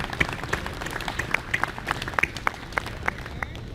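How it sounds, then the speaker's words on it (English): A crowd applauds at a university research and technology day event: scattered, moderately sparse clapping with a few distinct sharp claps standing out near the front, fairly quiet and roomy, no talking. "I'd like everybody to join me with a round of applause for that"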